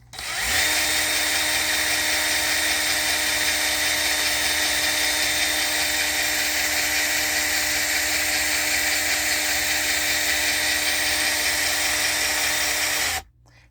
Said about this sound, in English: that's the 1976 Cadillac Eldorado convertible top power gearbox actuating mechanism